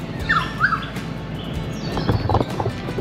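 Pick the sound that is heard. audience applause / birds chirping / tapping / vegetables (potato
birds chirping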